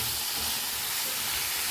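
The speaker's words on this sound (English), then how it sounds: "Add in the veggie mix. Toss it up on high heat" A vegetable mix sizzles in a hot pan over high heat, giving a steady, close, bright hiss of steam and frying with no pauses.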